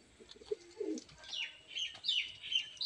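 Pigeons of an old Bengali fancy breed line give soft low coos up close, followed by brief higher chirps and faint rustling, with no talking over them.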